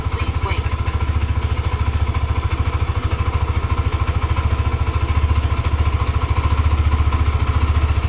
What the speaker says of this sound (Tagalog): Press the starter to start the engine.